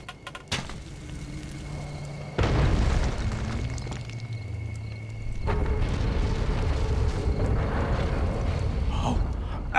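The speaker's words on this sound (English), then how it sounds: "an earthquake" A heavy rumble from an earthquake in the Trine 2 game sets in abruptly and rolls on as a loud, sustained low roar with booming surges, beneath a faint game music tone and no talk.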